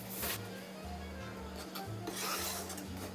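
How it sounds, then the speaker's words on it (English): Very cold butter is cut into a flour mixture in a bowl, with soft repeated scraping and rubbing strokes of a pastry tool against the bowl, close and fairly quiet, and no talking. "I'm going to cut in 1/4 cup of very cold butter until it resembles coarse crumbs"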